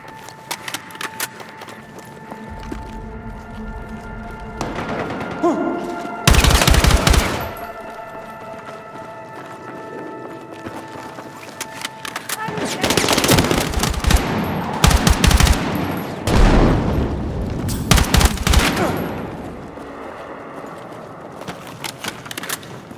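Bursts of machine-gun and rifle fire from the Battlefield 6 video game come in irregular volleys, with loud close bursts at several points over a steady battle din, some tones humming beneath.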